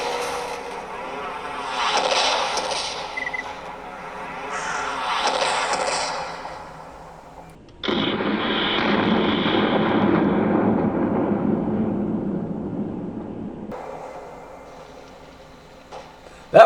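A rocket fired at a BTR armored vehicle in a video game gives a series of loud whooshing launches and booming impacts, then a long roaring blast that tapers off, with a final sharp crack.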